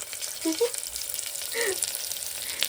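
Onions frying in a pan for instant South Indian sambar, producing a soft, continuous sizzle with a few louder crackles and stirring sounds, heard near but fairly quiet.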